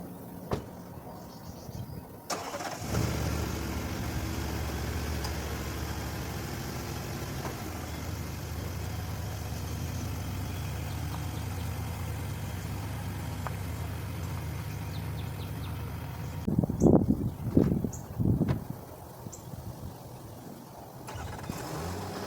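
Engines of trucks being moved around an RV lot, starting up and then idling in a long steady rumble, with clunks of doors or mechanisms and a few louder revs near the end.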